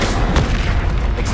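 Stupefy spell cast during combat in Hogwarts Legacy, a loud, dense booming blast with crackling bursts that stays close and heavy for the whole short moment.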